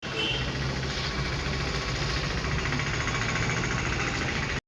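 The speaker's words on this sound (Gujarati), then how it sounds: "આ એક્ટિવા ચલાવવાની કોશિશ કરી પણ તને આવડશે જ નહીં" A Honda Activa scooter idles with a constant, close mechanical hum and vibration that runs evenly before cutting off abruptly at the end.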